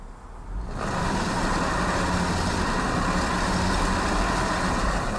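Honda Passport, Ford Edge or Nissan Murano AWD SUV stuck with wheels spinning, its engine swelling from quiet into a loud, steady sustained roar held for several seconds, alone without talk.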